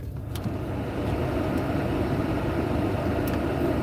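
A car heater fan blows hot air in a constant, even whoosh close by, a steady broadband hum with no talking.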